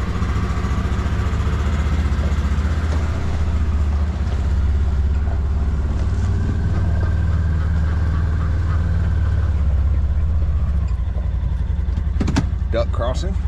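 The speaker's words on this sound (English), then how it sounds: "I was just letting the engine, you know, turn over more than a few times" A boat engine runs at a steady low idle, a deep constant rumble throughout, with people talking over it at times.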